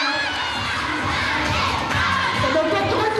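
A crowd of children cheers and shouts encouragement in a loud, continuous mass of voices, rising slightly toward the end, at a local event in Le Cateau.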